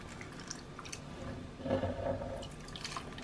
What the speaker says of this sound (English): The water that I used, I'm going to pour in here.